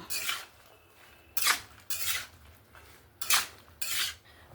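Bottle gourd being stirred with chili powder in a pan, five separate scraping strokes of a utensil against the metal, each about half a second long, with quiet gaps in between.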